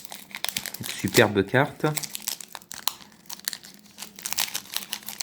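Pokémon booster pack wrappers from a Dragon Majesty Latias box crinkle and tear close by, in bursts of crackling foil, while someone talks over them.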